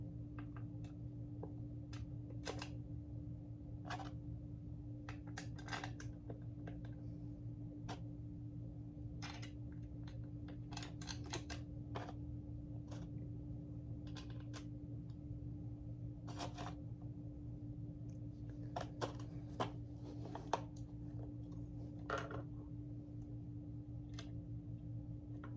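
Parts and screws on the top half of a Hoover Convertible upright vacuum being refitted by hand, scattered close clicks and taps over a steady low hum, with no talking.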